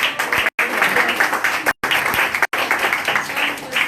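A church congregation claps loudly and continuously, broken by a few abrupt silent gaps, with no talking over it.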